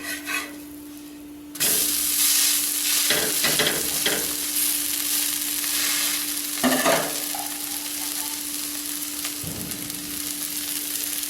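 Dosa batter mixed with coriander, mint and curry leaves sizzles on a hot tawa, a loud steady frying hiss after a quiet start, with occasional scraping and stirring noises.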